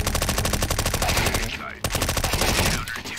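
An MP5-SD suppressed submachine gun fires in a video game, a loud sustained stream of rapid automatic shots with one brief break partway through.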